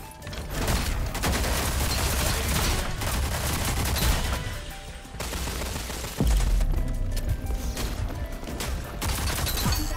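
Sustained gunfire from the shooter game Rogue Company, loud rapid bursts and single shots layered with booms over about ten seconds, with a brief lull before a heavy impact and more firing.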